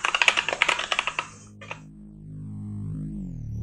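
Rapid typing on a Cherry MX Red mechanical keyboard, a quick run of about a dozen crisp close keystrokes that stops, followed by one stray click and a low hum.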